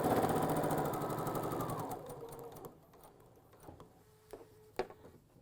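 A sewing machine stitches a ruffled scallop pillow seam, running steadily and fairly loud for about two seconds before slowing to a stop, followed by a few faint clicks and taps.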